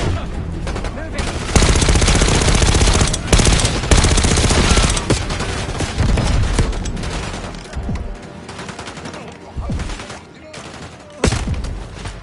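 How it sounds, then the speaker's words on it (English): Dense, loud bursts of automatic gunfire and explosions rattle continuously in the video game Call of Duty: Black Ops 6, with overlapping volleys and heavy thuds, like a chaotic battle scene. "We've got gunfire to the right."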